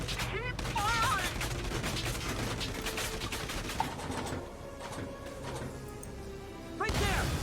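Rapid gunfire and crashing impacts in a tank battle in Valkyria Chronicles 4, a dense, loud barrage with sharp bursts running nearly throughout, mixed with game voices and music.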